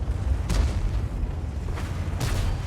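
Tank cannon fire in the World of Tanks video game, with a VK 168.01 in battle: two deep booming shots about two seconds apart over a steady low rumble of engine and battle noise.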